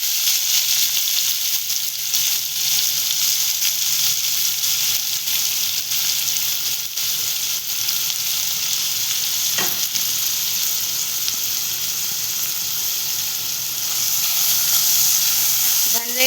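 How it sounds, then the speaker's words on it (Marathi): Cumin and finely chopped onion frying in hot oil, producing a loud, continuous close sizzle with steady hiss and a brief stir partway through. "इथे आपण तेल तापवून घेतलेलं, मग टाकते जिरं. मग आपण त्यात टाकूया कांदा."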